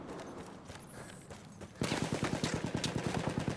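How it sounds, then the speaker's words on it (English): Rapid automatic gunfire in a video game battle bursts in suddenly after a quieter stretch of background game sound, sustained fast repeated shots, loud and close. "he's shooting at me or something"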